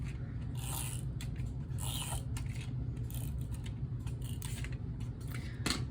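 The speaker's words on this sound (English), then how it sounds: "I'm going to put adhesive on just that half" A tape pen rolls adhesive onto half of a paper card topper, giving soft, faint scratchy scraping strokes in an irregular rhythm over a low background hum, with no talk.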